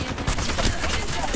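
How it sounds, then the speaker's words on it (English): Rapid gunfire from an Apex Legends match, a dense continuous rattle of shots close by, with faint voice chatter mixed in. "I'm spotted, taking fire."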